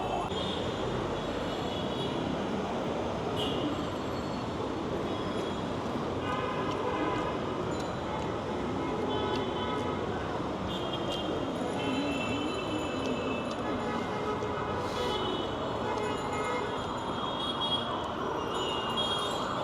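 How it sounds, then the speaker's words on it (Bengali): A metro rail train rumbles past steadily and continuously, with faint high wheel squeals and clatter over a dense background wash. Muffled voices are mixed in low. "metro rail"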